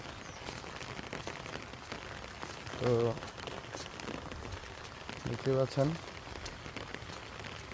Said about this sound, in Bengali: আকাশটা ভার, বৃষ্টি হইতেছে